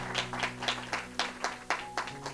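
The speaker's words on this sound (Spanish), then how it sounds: "le dan un aplauso al Rey" Worshippers at a Sunday church service clap in rhythm, with about nine evenly spaced sharp claps heard moderately loud over a sustained low musical hum.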